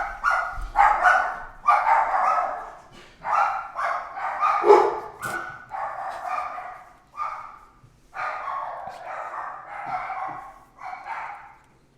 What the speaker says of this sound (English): That would have been our dogs